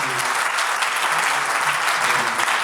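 A crowd at an album launch and listening party for a band applauds loudly and steadily, with many hands clapping close and a few voices mixed underneath.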